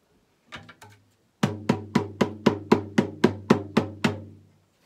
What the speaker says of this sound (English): like when the paper fully dries, it sounds like this.